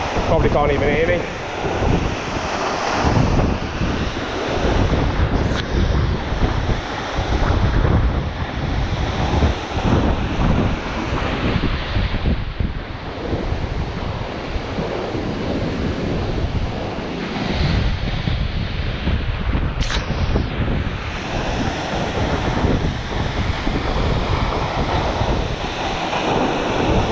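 Aber Falls waterfall in Snowdonia, North Wales, in heavy flow, roaring as a loud, continuous broadband rush mixed with wind buffeting the microphone.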